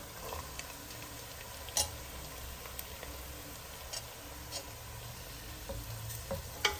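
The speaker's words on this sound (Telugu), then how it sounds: "మన ఉల్లిపాయలు బాగా వేగుతున్నాయి చూడండి" Onions, carrots and ginger fry in a pan for corn upma, a soft, steady sizzle broken by occasional light clicks of stirring, fairly quiet and close.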